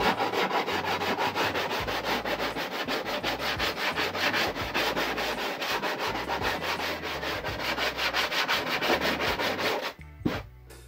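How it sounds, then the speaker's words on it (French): Hand sanding of a model airliner fuselage: steady, rapid back-and-forth abrasive rubbing strokes, close and continuous for about ten seconds, then a few short scrapes and a knock at the end. "Un petit coup de ponçage pour terminer."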